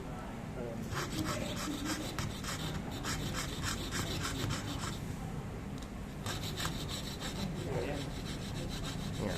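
Rapid, rhythmic rasping strokes of a fretsaw cutting mother-of-pearl shell, in bursts with a short pause, close up.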